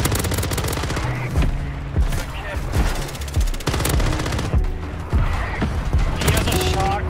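Rapid, loud shotgun blasts in the video game Warzone 3, fired in quick repeated bursts with mechanical clacks between them, close and dominant, with game sounds and voices mixed underneath.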